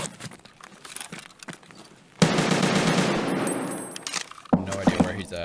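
Gunfire in a first-person shooter firefight in a hallway, a sustained dense burst of rapid shots lasting about two seconds, then sharper isolated cracks, loud and close, with brief talk before it.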